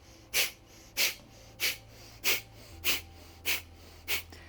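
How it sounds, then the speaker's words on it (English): Rapid yogic breath of fire: seven sharp, evenly spaced forceful exhalations through the nose, about one every 0.6 seconds, close and clear over a low steady hum, with no talking. "And we begin with the breath of fire."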